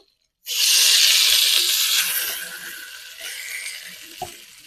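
Soya chunks and potato dropped into a pan of fried onions set off a loud, sudden sizzle that hisses strongly, then slowly settles into quieter frying crackle, with one sharp tap near the end.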